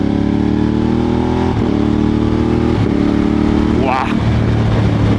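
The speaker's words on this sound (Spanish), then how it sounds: "cambiando sin embrague, súper suave" Moto Morini X-Cape 1200 motorcycle riding under load, engine droning loudly and steadily with short dips where the quickshifter changes gears without the clutch, a rider talking over it.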